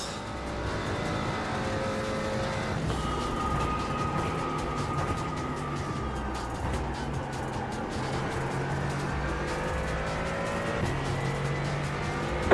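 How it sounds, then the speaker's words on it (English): Continuous loud engine roar from race cars in motion at the Roar Before the 24 event, with rising and falling tones as vehicles speed past close by, steady throughout. "Faster car coming up quick."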